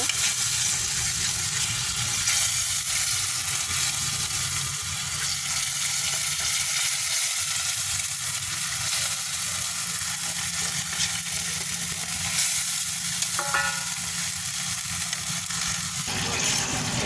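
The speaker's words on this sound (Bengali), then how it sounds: "এবার পোস্ত বাটাটা দিয়ে ভালো করে নেড়ে নিচ্ছি" Poppy seed paste frying in a pan, stirred steadily, with a dense continuous sizzle and faint scraping close by, loud and unbroken throughout.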